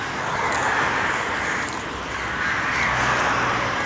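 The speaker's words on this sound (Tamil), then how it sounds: "காக்காய் பறவை எல்லாம் கத்துது" Crows caw over a loud, hissy outdoor background, their calls blending into a continuous wash of noise.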